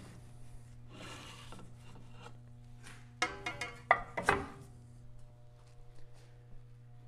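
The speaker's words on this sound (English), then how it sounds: "Now I can release the follow die. I can take that right out." Metal scrapes and clunks as the follow die of a mandrel bender is released and lifted out, giving a short run of close rasping and knocking over a steady low machine hum.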